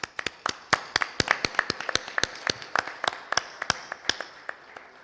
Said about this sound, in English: they all need a loud applause from us